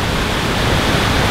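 A waterfall at Goldstream Provincial Park in British Columbia rushes with a loud, dense, continuous broadband roar, steady throughout with no breaks and no voices.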